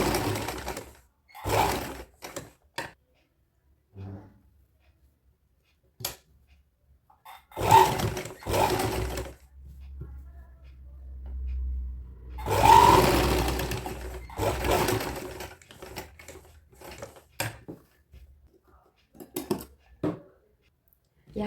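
A sewing machine stitches golden lace onto the neckline of a dress made from an old saree, running in several separate bursts of moderate loudness with quiet pauses between them.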